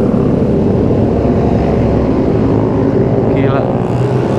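Large-displacement motorcycle passing on a city street during a Sunday morning group ride, a loud, steady engine roar filling the whole stretch, heard up close over constant traffic noise.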